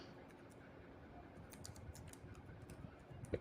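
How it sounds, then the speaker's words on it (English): Soft, quick keystrokes on a computer keyboard while entering names into a spreadsheet, a faint, irregular patter of clicks against low room noise. "For example, I'm typing in Tony Stark, Captain America,"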